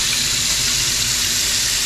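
Water gushes from a pipe during a plumbing test while copper pipes are swapped for polybutylene in a container-house renovation; the flow is a loud, close, steady hiss and splash with no pauses.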